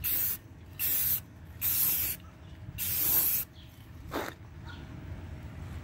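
Spray can applying arctic camo paint to a dirt bike panel: four loud hissing bursts of about half a second to a second each, close by, then a short quieter spurt.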